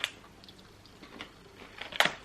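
Someone chews a crunchy chili and lemon snack mix close up, with soft irregular crunches that build to one sharp, louder crunch near the end, over low room noise. No one speaks.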